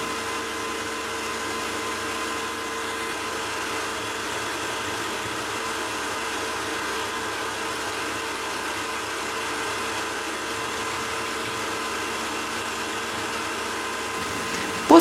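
An electric mixer whips kefir-based cake cream with a steady, unbroken motor whine that holds at an even level for about fifteen seconds.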